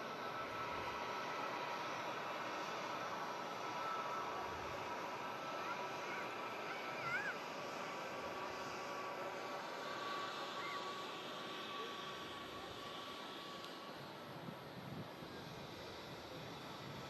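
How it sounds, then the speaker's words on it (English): A plane landing on the runway at Manchester Airport, a steady distant roar of jet engines holding at an even level throughout, with a faint higher whine over broad rumble and no talk. "there's a plane landing on the same runway"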